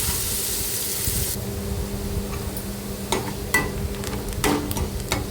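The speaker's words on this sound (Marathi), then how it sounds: "आता कांदा मस्त परतून घ्यायचा आहे आपल्याला" Chopped onion sautéing in a pan for a chapati chivda snack, a steady close hiss of frying with occasional clinks and scrapes of stirring, then fading to a softer sizzle with intermittent spoon taps.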